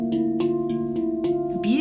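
A handpan struck on the far side of the pan, a few light repeated taps over a sustained ringing metallic drone, close and moderately loud.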